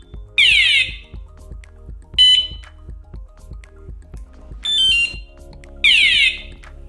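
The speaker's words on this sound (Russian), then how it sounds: "при постановке и снятии сигнализации слышен дополнительный сигнал" An Antusi A8 bicycle alarm unit gives four short, loud electronic chirps spaced irregularly across the span, bright and piercing with a faint low hum underneath between them.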